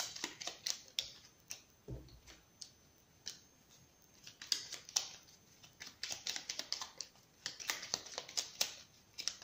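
Lenormand cards laid out and handled during a reading, with faint, scattered light clicks, taps and soft snaps of card stock in a quiet room.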